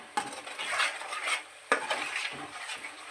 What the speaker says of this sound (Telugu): ఇది కూడా బాగా వేగనివ్వాలి